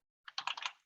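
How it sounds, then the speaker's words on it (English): A short burst of keystrokes on a computer keyboard, several quick close clicks in a row against silence. "I'm typing this in the chat"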